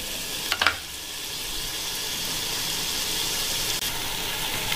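A steady sizzle of pav bhaji masala frying in a pan, with a couple of brief spoon scrapes early on and a faint stir near the end, heard close with no talking.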